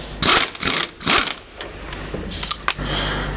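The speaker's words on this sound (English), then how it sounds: "Next, using the impact gun, you're going to remove this clamp from the wedge lock." An impact gun removing a clamp from a cable wedge lock on a shuttle floor trailer: two loud, close bursts of rattling hammering, then a few clicks and mechanical handling sounds.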